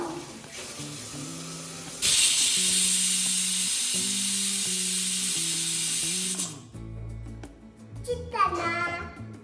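A pressure cooker cooking mutton sambar lets out one loud, steady hiss of escaping steam lasting about four seconds before cutting off sharply, with kitchen clatter and faint voices in the background.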